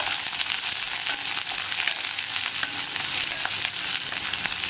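Chopped onion, two dried red chillies and two sprigs of curry leaves stirred in hot oil for cabbage mezhukkupuratti: a loud, close, continuous crackling sizzle with soft stirring underneath, no talking.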